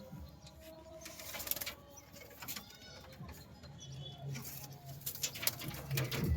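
A pigeon coos softly in low, rolling notes, close by amid rustling and other faint background noises.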